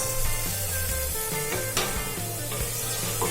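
Onions for masoor dal fry in a pan with a steady, close sizzle and hiss, broken by the scrape and clatter of stirring, with no talking.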